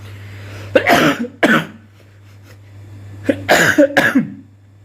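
A man coughs loudly and close in two separate bursts of harsh hacks, the second burst longer with several rapid coughs, over a steady low hum.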